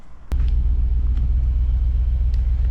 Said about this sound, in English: I've just turned the car on just to make sure that it's going to charge properly off the car